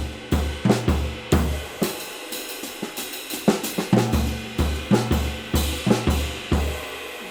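Drum kit pattern of repeated flams moving from floor tom to snare, each followed by a crash cymbal hit, in a steady rhythm of about a dozen strokes, close and loud with no talk.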